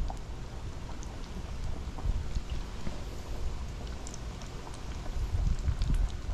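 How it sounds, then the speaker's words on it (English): Heavy rain pours steadily outdoors as a continuous dense hiss with low rumbling texture and scattered drop patters, fairly even in loudness throughout. "It's been raining cats and dogs all day."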